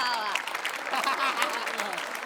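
A studio audience at a Marathi comedy show claps in brief, dense applause, with a voice heard over it.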